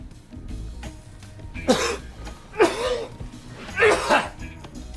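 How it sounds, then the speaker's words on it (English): Three harsh, raspy smoker's coughs in separate bursts, close and fairly loud, with a wheezy, phlegmy quality. "It's not flu or anything, it's just smoker's cough."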